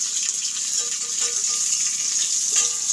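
Chopped green chilli and onion fry in hot oil for homemade flour chow mein noodles, giving a steady, close hiss of sizzling with no talk over it.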